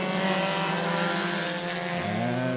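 Kiefer IMCA Sport Compact race cars roar into turns one and two at the start of a nine-lap heat race at Cottage Grove Speedway, a dirt oval in Oregon, engines loud and sustained with pitch shifting as they accelerate.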